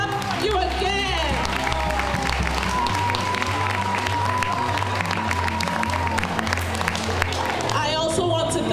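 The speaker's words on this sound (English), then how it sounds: "Please can we clap for you again?" Audience applause at a school performance of Macbeth by junior and senior high students, honoring the parents; sustained dense clapping from a crowd throughout, with voices and a sung or sustained tone mixed over it.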